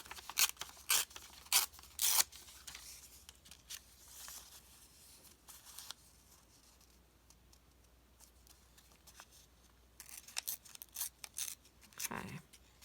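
Scissors snipping through a long strip of paper for a craft project, sharp close cuts in quick clusters at the start and again near the end, with a quieter stretch of faint rustling between.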